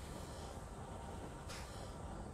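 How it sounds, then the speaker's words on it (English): A copper sheet cargo train passes in the factory-building video game Satisfactory, giving a steady, faint rolling rumble with a brief hiss partway through. No voices. "There's copper sheet train number 3."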